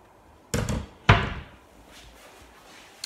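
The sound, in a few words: tip-on cabinet doors opening and closing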